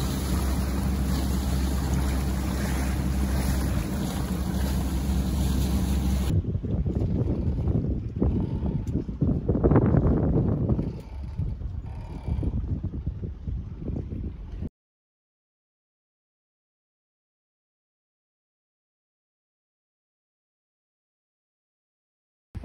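Sailboat under engine heading to the next anchorage, a steady loud broadband engine and water rumble for several seconds, then rushing wind and wave noise before the sound cuts to silence.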